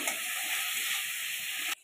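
Chopped tomatoes with a little salt sizzling steadily in hot oil with black cumin and chilies, a bright continuous hiss that cuts off abruptly near the end.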